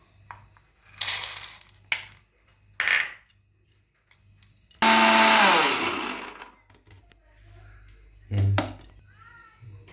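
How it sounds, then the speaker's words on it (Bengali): Nuts ground dry in a mixer grinder, a loud whirring roar of about a second and a half that fades out, with shorter bursts and clatter before and after. "এরপর বাদামগুলি মিক্সিতে কুটে নেব।"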